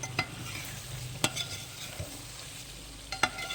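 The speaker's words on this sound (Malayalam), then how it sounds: "ഇടയ്ക്ക് നമ്മളൊന്ന് തുറന്ന് ഇതുപോലൊന്ന് ഇളക്കി കൊടുക്കും" Chicken perattu gravy being stirred in a pan, with a few sharp scrapes at separate moments over a faint, steady background of low sizzling.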